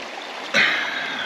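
Creek water flows across a crossing on an off-grid camping track in Victoria, a steady broadband rush that swells abruptly into a louder, closer splashing surge halfway through.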